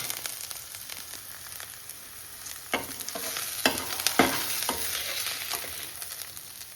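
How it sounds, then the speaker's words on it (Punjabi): Onions and peas frying and being stirred in a pan, a steady sizzle with spoon scrapes and clacks scattered through it, close and alone with no voices. "ਪਿਆਜ਼ ਬਣ ਕੇ ਹੋ ਗਏ ਤਿਆਰ ਥੋੜਾ ਜਿਹਾ ਹੋਰ ਸੇਕ ਲਵਾਵਾਂਗੇ"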